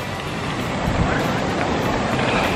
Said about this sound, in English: Oh boy, more of the Chestnut Creek, and that's what I would call a waterfall.